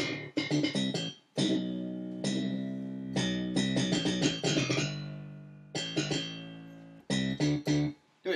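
Slap bass riffs through a virtual instrument, with sharp plucked attacks in bursts and short gaps, steady and fairly loud with no one talking over it.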